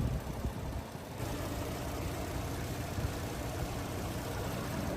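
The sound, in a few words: Audi Q7 petrol V6 engine idling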